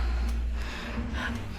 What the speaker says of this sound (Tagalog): Hinihingal si Buntis.